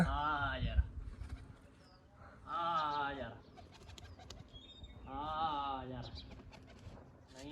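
A pigeon gives three drawn-out, throaty coos spaced a couple of seconds apart, faint and close, with quiet background noise between them.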